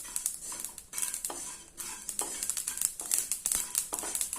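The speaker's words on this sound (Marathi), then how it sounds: "चटचट आवाज यायला लागला की समजायचं भाजले गेले" Sesame seeds dry roasting in a pan crackle and pop while being stirred, a run of quick close crisp ticks and scrapes with an irregular rhythm, no talk.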